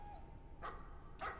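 A dog barks twice in the Layers of Fear horror video game, two short distant yelps about half a second apart over a low, quiet ambient hum.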